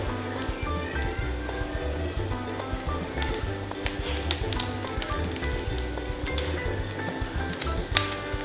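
Macaroni pancake batter sizzles steadily in a pan over low heat, a close, dense crackling hiss with scattered sharp pops.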